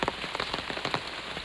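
Heavy rain falls in the countryside, a dense, steady patter with close drops tapping loudly on a nearby surface.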